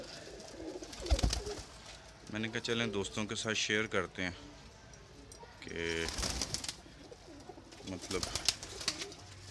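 Pigeon coos from Teddy and Ali breeding pigeons in a loft sound in short bursts, mixed with someone talking over them.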